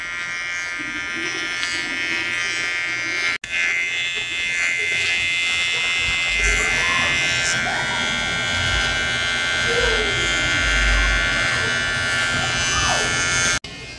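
An electric clipper fitted with its smallest head buzzes steadily and close as a dog's paws are trimmed, a continuous whine with faint scraping, while someone talks over it.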